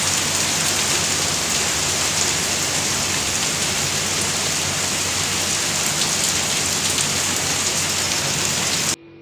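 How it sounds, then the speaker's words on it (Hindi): Heavy rain pours down steadily in a dense, continuous roar, loud and close, with no voices, cutting off abruptly at the very end. "खूब तेज बारिश आ रही है"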